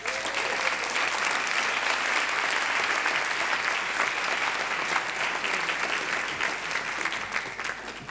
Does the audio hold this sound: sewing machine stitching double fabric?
no